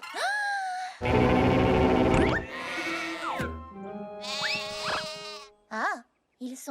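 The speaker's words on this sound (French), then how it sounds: "Et les moutons, écoutez." Cartoon sheep bleat loudly in a string of wavering, drawn-out cries. Bright animated sound effects and a short chirpy call come in between the bleats.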